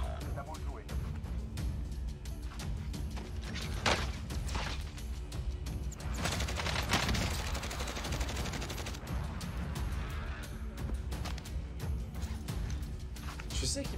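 Enemy gunfire in the video game Warzone, repeated sharp shots and bursts at moderate distance over a continuous busy game background, with voices talking over it.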